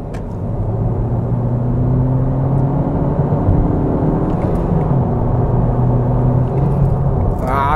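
Honda Civic FK7 fitted with a custom air intake accelerating hard on a road, heard from inside the car as a steady, loud engine drone and rumble with rising tones that holds throughout.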